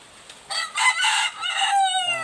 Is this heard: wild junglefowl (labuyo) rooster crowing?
yes